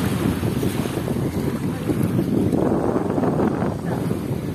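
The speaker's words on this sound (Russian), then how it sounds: "вот на такой штуке надо погонять. На мотоцикле. На водном." A jet ski runs on the sea off Batu Ferringhi beach on Penang island, Malaysia, its motor blending into steady wind buffeting and surf along the shore, with no talk.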